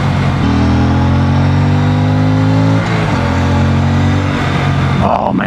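A 2026 Aprilia Tuono 457 motorcycle engine revs freely, loud and close, its pitch climbing smoothly, dipping briefly midway, then rising again before falling off.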